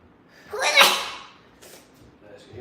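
A single sharp sneeze bursts out close and loud, followed by a quieter breathy trailing sound and a faint rustle after it.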